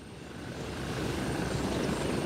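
Helicopter flying in the military shooter Gray Zone Warfare, a steady broadband rotor and engine drone that swells slightly louder and holds close and continuous, with no talk.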